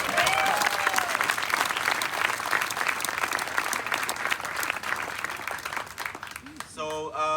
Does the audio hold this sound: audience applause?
yes